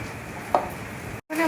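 A single crisp knife cut through a peeled wild elephant foot yam lands on a board, one short chop against a quiet kitchen background.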